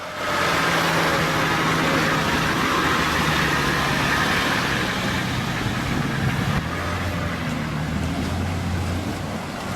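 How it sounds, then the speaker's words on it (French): A sturdy 4x4 pushes through a river crossing on the Comoé in Côte d'Ivoire, its engine a loud, continuous rumbling drone mixed with rushing water, holding steady for the whole stretch without stalling. "certains passages sont empruntés à pied ou avec un solide 4x4 si le conducteur exécute la manœuvre sans caler le moteur"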